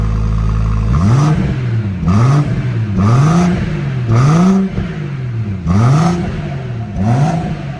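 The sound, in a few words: BMW M140i engine revving with sport mode exhaust valve open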